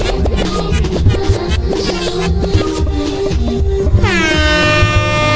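Air horn blasts from a soundboard ring out loudly over rhythmic music during a livestream, with repeated honking stabs and a final rising, smeared horn tone near the end.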